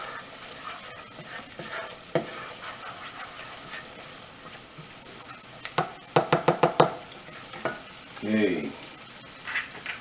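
A spoon stirs tomato paste into jerk rice frying in a pot, giving soft sizzling with a quick run of scraping knocks against the pot. A brief word is spoken.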